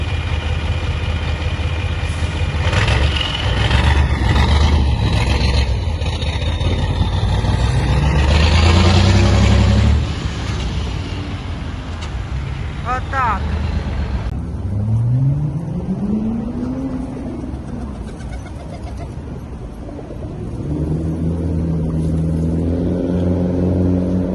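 A car drives past on a city street with a steady engine hum that rises and falls as it moves by, fairly close and continuous, with other traffic noise around it.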